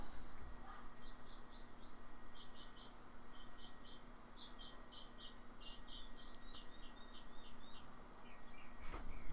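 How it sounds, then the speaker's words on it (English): Small birds chirp faintly in the distance, short repeated tweets scattered over a steady low background hum. "can you guys hear those birds?"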